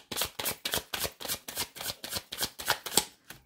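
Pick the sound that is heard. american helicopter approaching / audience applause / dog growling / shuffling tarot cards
shuffling tarot cards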